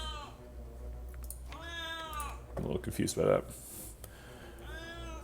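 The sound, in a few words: cat meowing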